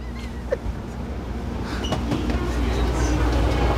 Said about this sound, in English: And that is the Shinkansen.